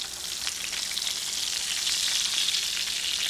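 Food sizzles and fries steadily in a hot pan right after being flipped, a continuous bright hiss holding fairly loud and close throughout with no talking.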